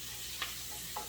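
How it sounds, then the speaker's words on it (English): Spinach dropped into a pan for creamy Tuscan garlic chicken, hitting hot fat with a soft steady sizzle and a couple of brief stirring scrapes, quiet and close with no voices. "I'm going to go ahead and add some of my spinach."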